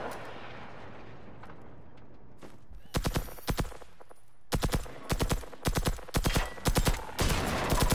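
Bursts of silenced SMG fire from the shooter game Generation Zero: several short rapid volleys spaced a second or so apart, crisp and fairly loud after a quiet ambient stretch, with no talk over them.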